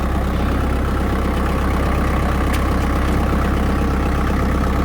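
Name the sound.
simple basic tractor engine idling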